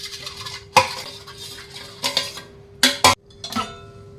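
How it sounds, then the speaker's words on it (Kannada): A rice sweet being mixed with ghee on a plate: a handful of sharp metallic clinks and scrapes of a utensil against the plate, separated by quiet pauses. "ಸ್ವಲ್ಪ ತುಪ್ಪವನ್ನು ಹಾಕ್ತೀನಿ. ಚೆನ್ನಾಗಿ ಇದಕ್ಕೆ ಮಿಕ್ಸ್ ಮಾಡಬೇಕು."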